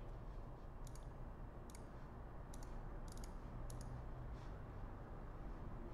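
A computer mouse clicks while building a WordPress website, several crisp, faint clicks in small spaced pairs and singles against a quiet background hiss.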